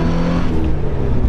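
A Porsche 944 pulls hard in second gear, its engine note steady and loud throughout, heard close with a smooth continuous drone and no voices.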